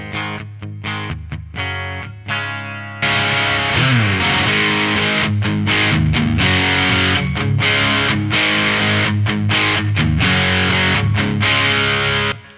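Electric guitar played through an MXR Distortion Plus pedal into an Astoria amp, heavily distorted and loud, with a few stop-start chords before sustained riffing runs on without pause.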